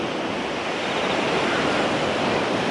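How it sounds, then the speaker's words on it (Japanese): Wind-driven waves on Lake Biwa wash in a steady, broadband roar, with gusts buffeting the microphone throughout and no voices. "結構波が出てますね、琵琶湖に。"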